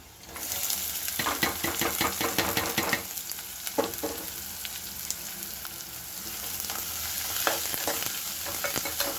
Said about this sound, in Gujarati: હવે આપણે એમાં ડુંગળી એડ કરી દઈશું